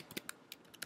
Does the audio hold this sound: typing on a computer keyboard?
yes